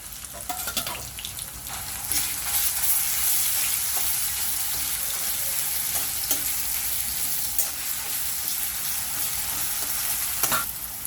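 Ginger and garlic fry in hot oil for vada pav with a continuous bright sizzle, while occasional spoon stirs and scrapes sound close by.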